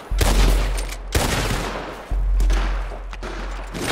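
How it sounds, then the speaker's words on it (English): Loud gunfire in the video game Red Dead Online, a few heavy sharp shots followed by sustained rumbling bursts of firing and echo, close and forceful with no talking. "Who shot at me?"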